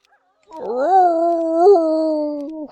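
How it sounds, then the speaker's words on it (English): A wolf rider's wolf in Heroes 3 lets out a single loud, sustained howl that swells and bends in pitch for about two seconds, then cuts off abruptly. "Those goblins that ride the wolves clearly are not very bothered by the wolves' howls."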